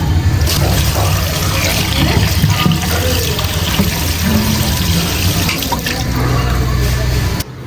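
Tap water runs steadily and loudly into a sink to soak hilsa fish in a small kitchen, a continuous close splashing rush that stops abruptly at the end.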